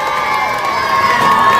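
A political rally crowd in Dhulia cheers and shouts loudly and continuously, a dense wall of massed voices with applause building toward the end.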